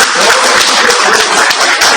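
A church prayer group's congregation applauding, a dense, steady wash of many hands clapping, loud and close throughout.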